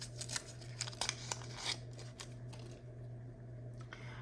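Scissors snip at cork and felt pads of a clarinet, a quick run of small crisp cuts in the first couple of seconds, then quieter handling under a steady low hum.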